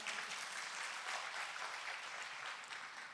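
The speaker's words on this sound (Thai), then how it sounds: "เราปรบมือให้พระเจ้าด้วยกันดีไหมคะ" A church congregation applauds together in steady, even clapping that stays fairly soft and distant throughout, with no voices over it.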